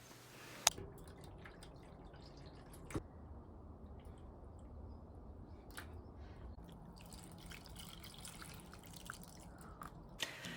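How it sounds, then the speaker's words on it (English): Water trickles and drips while plants are watered in a greenhouse: a quiet, steady wet patter with a few sharper drops standing out, and no one speaking. "So I'm just gonna put a little bit of water in and then check up on them when I get back."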